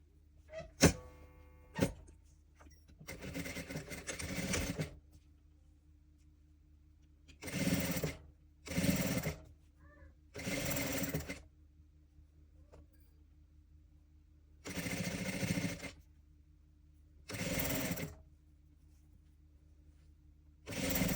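A sewing machine stitches a fabric fox toy in several separate bursts of rapid running, each lasting a second or two, with quiet pauses between the runs.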